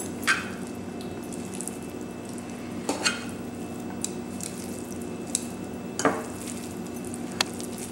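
A spoon stirs a tomato sevai mix in a pan over a soft, steady sizzle. Sharp clinks of utensil against metal come every second or two, close and fairly quiet, with no talking.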